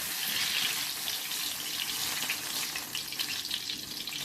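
Pakoras frying in oil over low to medium heat, a dense, even sizzle and crackle that holds steady throughout, fairly close.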